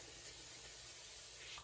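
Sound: cooking spray on baking pan

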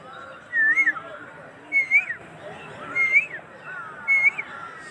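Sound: man imitating the call of a cuckoo (koel)

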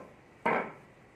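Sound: cutting watermelon rind into thin strips with a bonti

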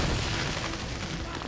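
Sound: grenade explosion in a video game

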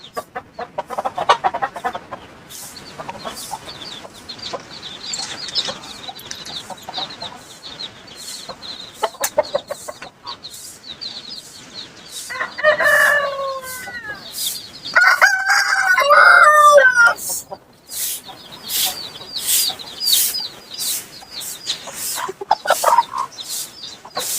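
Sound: rooster crowing

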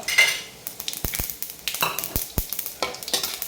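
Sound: mustard seeds and cumin tempering (tadka) in hot oil

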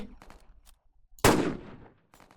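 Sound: AW sniper rifle gunshot in Roblox video game

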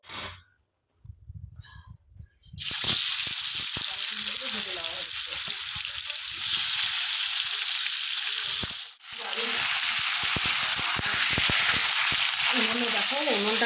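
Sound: ash gourd pieces frying in oil

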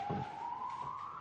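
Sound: siren passing in the street

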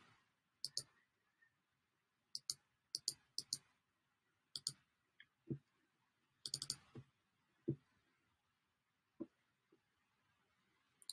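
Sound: computer mouse clicking

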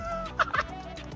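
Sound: rooster sound

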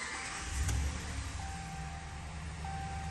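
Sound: 2014 Ram 1500 Outdoorsman truck engine starting up

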